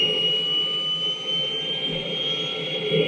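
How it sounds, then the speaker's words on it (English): A steady engine roar with a high whine from a remotely flown helicopter in the 1967 series The Prisoner, constant and fairly loud, with no voices. "they're remotely flying the helicopter."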